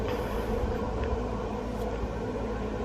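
The fan of a Victory pellet smoker runs as a steady, low, even hum with its auger turning, heard close up and fairly quiet throughout with no speech.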